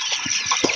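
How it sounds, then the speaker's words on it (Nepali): Chickens and chicks clucking in quick, short calls close by, with a steady background hiss and no talk. "कुखुराको चल्ला यति छ हाम्रो"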